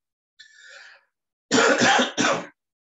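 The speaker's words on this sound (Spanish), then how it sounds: "estoy con gripe, Así que ando con bastante tos" A lecturer with flu coughs: a soft breathy throat sound first, then two harsh, loud, close coughs in quick succession, with no talking.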